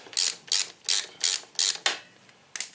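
Ratchet socket wrench clicking while working the brake caliper bolts on a Honda SH300i scooter during a brake pad change: seven crisp, close ratcheting bursts in a steady back-and-forth rhythm, with no talk.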